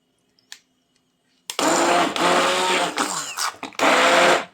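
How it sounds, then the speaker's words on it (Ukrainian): An immersion blender whirs loudly in bursts, starting and stopping several times with a dense, grinding buzz as it mixes a thick cheesecake batter. "Всі наші інгредієнти я збиваю погружним блендером до однорідності."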